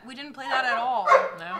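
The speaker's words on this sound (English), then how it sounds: "I apologize that my dog won't stop barking at me." A pet dog barks and whimpers in short yips at home, close by, partly under people talking.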